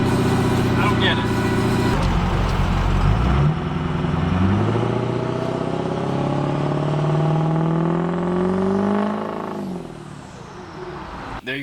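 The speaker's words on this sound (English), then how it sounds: "I did a couple quarter throttle pulls, half throttle, and full throttle" Ford 6.0 Powerstroke diesel truck fitted with a bed stack revs through rising throttle pulls, engine pitch climbing steadily and loud before dropping off near the end.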